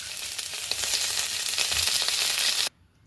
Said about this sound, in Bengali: পেঁয়াজটা একটু হালকা ভাজা হতে দিয়েছি, চিংড়ি মাছগুলো ভেজে চিংড়ি মাছের মাথা সব দিয়ে দিচ্ছি।